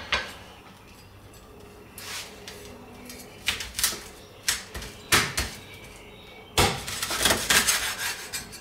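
A knife chops through scored pork belly on a board, making sharp, irregular knocks and slices close by. The cuts are sparse at first and then come as a quicker run of rapid strokes near the end.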